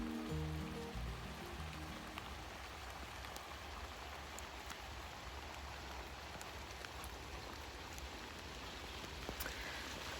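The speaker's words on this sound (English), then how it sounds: "it's very rainy in Birmingham today" Steady rain pours down on an allotment garden in Birmingham, a dense continuous hiss of drops on surfaces with no voices, even and unbroken throughout.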